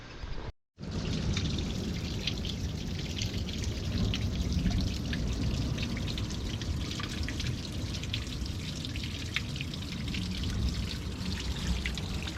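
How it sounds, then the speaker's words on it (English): A small natural waterfall trickles down the land into seaside rock pools on the Scottish coast near a harbour mouth, a steady close splashing and pouring that runs continuously, with no voices. "there's a little natural waterfall here coming down the land, down to the little rock pools at the seaside"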